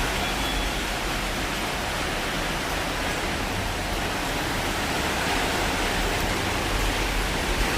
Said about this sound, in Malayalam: നല്ല മഴയാണ് പുറത്ത്.